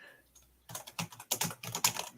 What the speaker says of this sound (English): typing, must write more pages